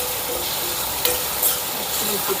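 Garlic cloves, onion and green chili sizzle steadily in a pan as they fry, with a couple of brief clinks of stirring over the constant crackle.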